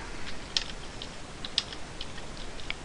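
Quiet, sparse keystrokes on a computer keyboard, a few soft clicks spaced irregularly over faint background hiss, with no talking.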